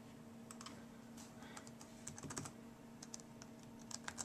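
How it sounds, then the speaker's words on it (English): Username being typed on a computer keyboard during a Windows 7 installation, a few quick light key clicks in short bursts over a faint steady hum, close but very quiet, without talking. "So, type a username."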